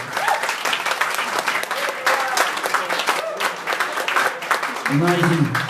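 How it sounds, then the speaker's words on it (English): An audience at a wake applauding departing nurses from St Vincent's, dense sustained clapping with cheers, loud and close throughout, and a voice speaking near the end. "And we'll give her a cheer as they go."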